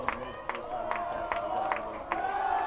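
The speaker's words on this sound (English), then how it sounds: "Blue Jay sideline starting to make some noise, as is the Blue Jay crowd." Crowd noise and cheering from the sideline at an Elmhurst University college football game, a steady roar with periodic bursts of louder shouts, heard at a distance.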